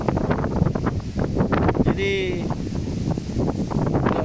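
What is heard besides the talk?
strong wind by a big river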